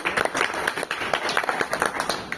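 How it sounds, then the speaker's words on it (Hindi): People at a monthly pensioners' association branch meeting clap together, a steady run of individual hand-claps at moderate volume without talk. "आप दोनों के लिए एक जोरदार ताली तो होनी चाहिए"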